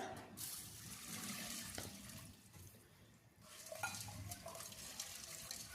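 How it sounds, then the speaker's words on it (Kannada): Water sloshes and splashes over lentils, including pigeon peas, being rinsed in a vessel, an uneven, close wash of swishing with small clinks, quieter for a moment midway before resuming. "ಈಗ ಇದಕ್ಕೆ ಸ್ವಲ್ಪ ನೀರನ್ನ ಹಾಕ್ಕೊಂಡು ಚೆನ್ನಾಗಿ 2-3 ಸಲ ತೊಳ್ಕೊಬೇಕಾಗುತ್ತೆ"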